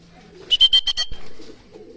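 Racing pigeons coo just after release from a transport truck. A low, soft coo is heard near the start, followed by a quick series of sharp rattling pulses and then a faint murmur.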